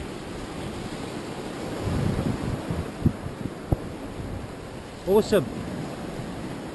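Steady wind rushing across a microphone by the shore in Thailand during windy season, with surf rumbling underneath; a voice speaks a single short word near the end.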